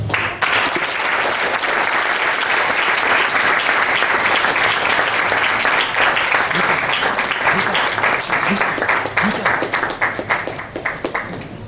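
Sustained audience applause and cheering at a Bible dedication ceremony in Duékoué, dense and loud throughout, with a few voices mixed in and the clapping thinning slightly toward the end.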